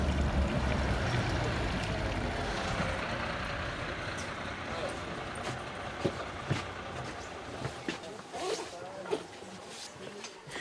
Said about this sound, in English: A bus takes us just a few hundred yards from the border.